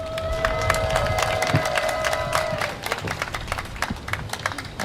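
Outdoor crowd clapping at a rally in Busan City Hall plaza, with a steady wash of claps and a sustained tone early on, then thinning to scattered claps and murmur as it fades.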